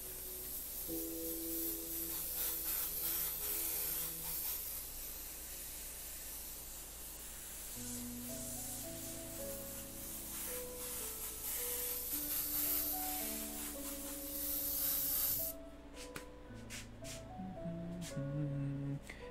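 Airbrush spraying paint for graffiti-style art, a steady close hiss running almost continuously, with sustained tones from music or background sound layered underneath.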